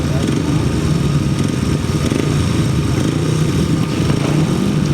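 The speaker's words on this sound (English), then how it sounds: "They settle in for the 500 sidecar final rerun, 4 outfits. Away they go then" A pack of four 500cc sidecar grasstrack outfits races at a grasstrack meeting, their engines roaring steadily and loudly at mid distance while a commentator speaks over them.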